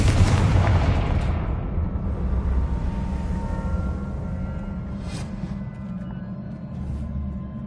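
A Confringo explosive spell in Hogwarts Legacy gives a loud, close blast with a booming low rumble that slowly decays, followed by a few brief crackles.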